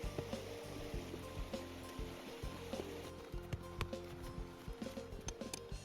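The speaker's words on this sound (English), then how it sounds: "The running water helps to dislodge the thick mud." Running river water gushes and splashes as dismantled, mud-caked tractor seats are washed in it, with steady low rushing and irregular sharp knocks and scrubbing, faint and without speech.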